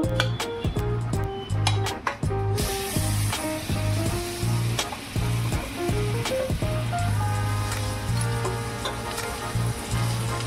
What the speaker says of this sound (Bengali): এরকম লাল লাল করে ভেজে নেব সবগুলো